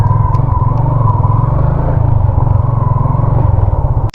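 A motorcycle engine rumbles close by at a school gate, a steady low throbbing idle that lasts the whole clip with no one talking.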